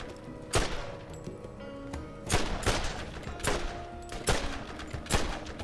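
Gunfire in the Borderlands shooter game, several sharp, loud shots in short bursts with gaps between them, fired over a low steady in-game background.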